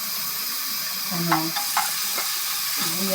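Onion sizzles in a hot frying pan, with a constant hiss, a few brief stirring scrapes and clinks near the middle, and faint voices underneath.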